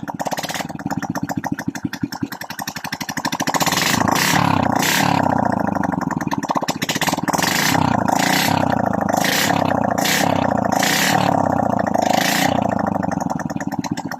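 A Honda XRM 125 motorcycle engine, just back from a top overhaul for a white-smoke problem and running without a muffler, chugs close and loud with a rapid, rough rhythm and repeated throttle blips that swell and fall.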